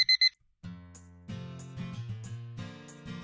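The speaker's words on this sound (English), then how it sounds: "I forgot to turn off my alarm." An alarm clock rings in a few quick, bright beeps at the start, then cuts off as a steady low musical tone with a melody takes over.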